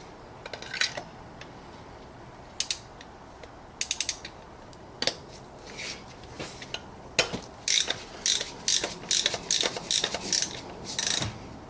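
Ratchet wrench with a 14 mm spark plug socket undoing a spark plug on a 2008 BMW E91, heard as bursts of rapid clicking that grow denser toward the end, close up with no talk.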